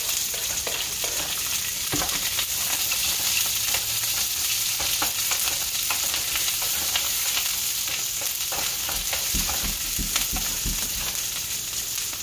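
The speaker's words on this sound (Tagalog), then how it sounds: "pag nag-golden brown na po, isunod po natin ang sibuyas" Onions frying in a pan after garlic has turned golden for squid adobo, a loud, steady, crackling sizzle throughout with scattered stirring knocks, close up and with no talking.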